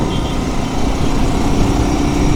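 A Chinese motorcycle engine running steadily nearby, a loud continuous low rumbling drone with an even throb and no change in pitch, heard alone.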